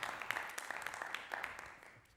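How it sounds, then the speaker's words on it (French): Studio audience on a television game show applauding the day's winner, Hamid; a moderate, steady patter of clapping with scattered sharper claps, fading slightly toward the end, with no talking over it. "560 pour Hamid qui est le vainqueur de cette journée et qu'on applaudit pour l'encourager"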